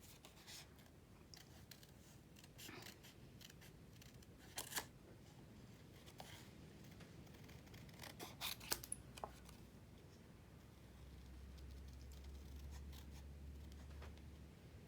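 Scissors snip through paper while cutting out a small butterfly shape, quiet close crisp cuts in irregular bursts with faint rustling of the sheet between them, no talk.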